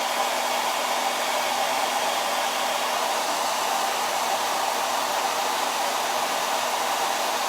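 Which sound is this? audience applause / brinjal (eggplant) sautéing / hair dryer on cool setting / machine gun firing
hair dryer on cool setting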